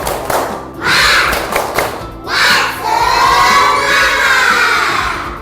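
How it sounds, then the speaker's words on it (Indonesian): A classroom of schoolchildren performs a spirit clap chant, with bursts of rhythmic clapping and loud group shouts rising and falling in quick waves, close and energetic. "Tepuk semangat 1 kali."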